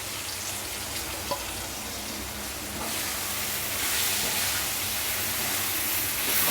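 Cut mushrooms sizzle and hiss in a hot pan while being fried, a steady close frying noise that swells slightly louder partway through, with no talk.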